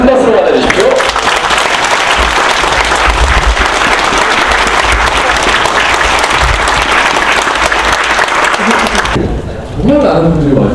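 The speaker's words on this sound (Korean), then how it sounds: "큰 박수로 맞아주십시오." A large crowd applauds as the author is welcomed onstage at a packed book launch, with loud, sustained clapping that runs for about nine seconds and then stops, followed by a voice speaking.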